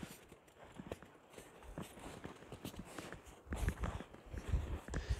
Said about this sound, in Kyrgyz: Мына 1 жаштагы Абакандан алып келген, Россиядан келген өспүрүм тай.